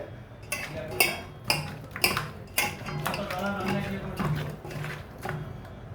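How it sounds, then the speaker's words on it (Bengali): A rohu fish is rubbed by hand with turmeric and chili in a bowl, giving several close, sharp clinks and knocks spaced unevenly over a low steady hum. "দিয়ে আমি মাছটি ভালো করে মেখে রাখবো"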